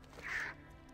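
A single short crow-like caw rings out in a World of Warcraft: Legion game scene, clear and fairly close over faint background ambience.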